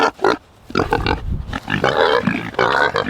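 Nearby pigs grunt and snort in short, loud bursts while feeding on alfalfa, with brief pauses between rough, throaty calls.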